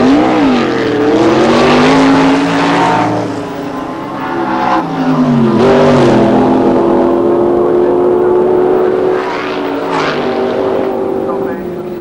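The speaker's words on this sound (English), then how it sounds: "So both our cars edging forward into the stage." Drag racing dragsters and altered cars at the 1990 Santa Pod Thunderball roll forward into the staging beams. Their engines give a loud, continuous, close roar with shifting pitch as they rev, and a commentator talks over it.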